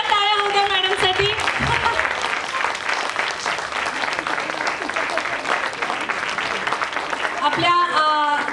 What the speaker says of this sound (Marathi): जोरदार टाळ्या होऊ द्या मॅडमसाठी